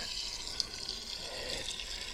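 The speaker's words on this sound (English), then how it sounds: "It's full flow with the hose, not backing up anymore." Water from a hose pours in a steady, even rush down a newly cleared drain, close and constant throughout with no voices.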